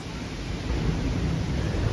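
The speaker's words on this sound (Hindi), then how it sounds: "गाइस पानी का बहाव इतना तेज है ना" Fast, strong river water in Goa rushes in a steady, dense roar that stays close and even, with no voices over it.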